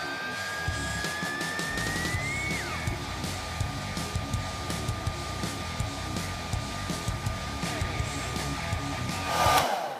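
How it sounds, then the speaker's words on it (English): A white hairdryer blows a steady, loud rushing roar, heating the parts of a WWE wrestling toy figure, running continuously with no talking. "I gotta get the white trusty hairdryer back out,"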